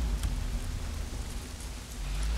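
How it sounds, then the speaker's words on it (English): Steady heavy rain pouring down in the video game Days Gone, a continuous broadband hiss with faint low rumble throughout, no voices. "Well, not if it's pissing down rain."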